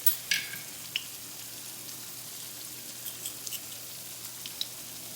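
Arepas frying in hot oil, a faint steady sizzle with scattered small pops and crackles, no talking.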